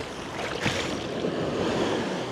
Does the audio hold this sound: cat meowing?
no